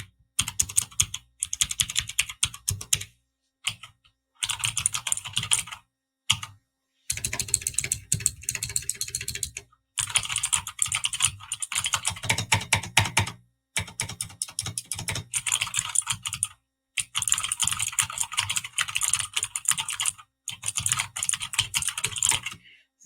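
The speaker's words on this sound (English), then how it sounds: "This keyboard has a nice, like, straightforward, non-twangy click." Bursts of crisp, clicky keystrokes from a gaming computer keyboard, typed in quick rhythmic runs separated by short silent pauses, close and clear with no talking.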